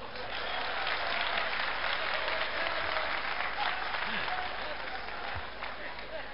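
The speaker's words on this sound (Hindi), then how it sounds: "आप समझ जाएंगे तो ताली बजा के बताइएगा" An audience claps at a comedy show held at a Kumbh Mela camp in Ujjain, a dense, even roar of applause from a large crowd that holds loud and steady throughout, with faint voices mixed in.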